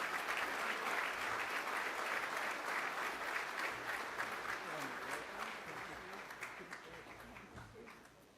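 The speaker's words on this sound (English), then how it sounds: "please give a round of applause to Laura and Emily" Audience applause at a Copeland Trophy awards night, a sustained wash of many hands clapping that slowly tapers, with some voices murmuring underneath.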